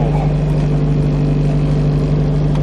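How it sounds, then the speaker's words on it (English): A Nissan 240SX S13's exhaust drones steadily with a low, throaty hum and slight rises in revs, close and continuous throughout. "That's the exhaust."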